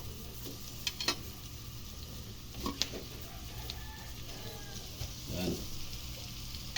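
Dalagang bukid fish frying in a pan sizzles steadily and faintly, with occasional crackles and pops, while a voice speaks briefly.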